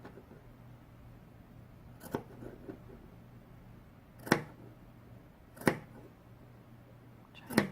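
Scissors snip notches into the curved seam allowance of a small fabric pouch keychain, with a few crisp, close cuts spaced a second or more apart over a faint steady hum.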